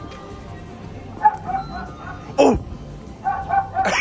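Dog-bark sound effect from a vending machine, a short electronic yap rising above a background tone and murmur, with a voice exclaiming just before it.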